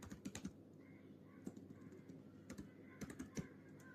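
Someone types Java code on a computer keyboard in short irregular bursts of close, light key clicks, with brief pauses between the runs and no voices.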